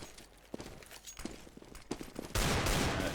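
Desert Eagle pistol shots in the video game CS:GO crack out as a series of separate, fairly faint shots with irregular spacing, followed by a sudden louder burst of dense noise near the end.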